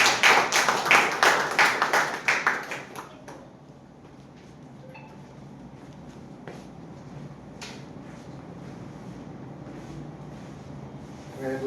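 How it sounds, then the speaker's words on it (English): Members at a Toastmasters meeting give a short round of applause, with brisk, close clapping for about three seconds that quickly dies away into quiet room tone and a few small knocks. "With a big round of applause."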